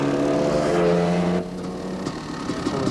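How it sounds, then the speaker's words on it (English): A KTM 350cc four-stroke enduro motorcycle at the International Six Days Enduro in Assen, Netherlands, engine buzzing loud and steady at high revs, then dropping off abruptly to a lower, rougher running note. "With his KTM 350cc 4-stroke sounding nice."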